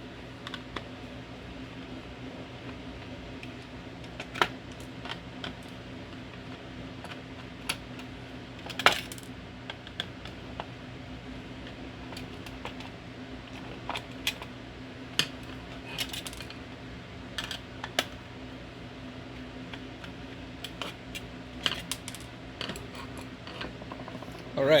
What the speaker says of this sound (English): I'm going to grab a screwdriver and we will open her up